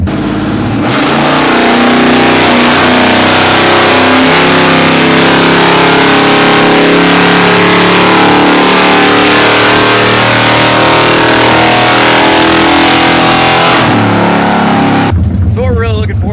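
A 1973 Dodge Charger with an upgraded intake revs hard on a chassis dyno, its mid-pitched engine roar held loud and steady for about fourteen seconds before cutting off abruptly.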